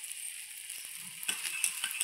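Pitai paratha frying in oil in a pan, a steady faint sizzle running throughout with a few soft clinks and scrapes of a utensil near the end; no talking.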